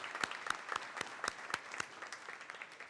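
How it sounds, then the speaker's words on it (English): Audience at a university honors college graduation ceremony clapping. The applause is faint and distant, with a few sharper claps standing out over about three seconds. "Let's give them a round of applause, please."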